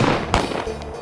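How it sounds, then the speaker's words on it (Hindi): A single sharp pistol bang cracks out amid loud crowd noise at a wedding, followed by a fainter second pop of celebratory gunfire. "शादी के बाद चली जश्न दी गोलियां"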